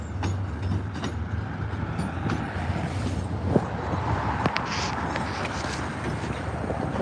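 An MBTA commuter train rolls steadily through Cabot Yard, its broadband rumble and wheel clatter filling the whole stretch with a few sharper clanks and brief squeals, loud and continuous with no talk.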